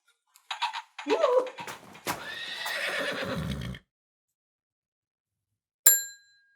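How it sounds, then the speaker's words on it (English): A donkey brays with a loud, drawn-out call lasting a couple of seconds after a few short snorts, then falls silent before a bright bell-like ding. "let me put you on my donkey"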